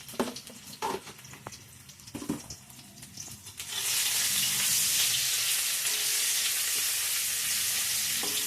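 Onions fry in a pan with salt added, the sizzle starting after a few soft scrapes and stirring knocks, then swelling into a loud, steady, close crackling hiss that holds to the end.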